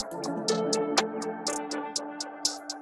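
Quick, sharp hi-hat hits repeat in an uneven pattern, swirling and echoing through delay and phaser effects over a low sustained tone.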